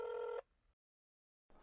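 A telephone ringback tone, a steady electronic tone that sounds briefly and cuts off as the call connects, followed by near silence and a faint sound at the end.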